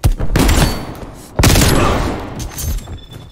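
Two loud LW3 Tundra sniper rifle shots in Call of Duty Cold War, each a sharp close crack followed by a long booming tail, spaced well over a second apart.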